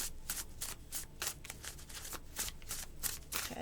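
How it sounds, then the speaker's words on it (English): A stack of paper envelopes is shuffled by hand like a pack of cards, giving quick, soft riffling bursts in a rapid irregular series, close and fairly quiet. "I'm just going to pull out a stack from the middle, and I guess I'm going to shuffle it like a pack of cards."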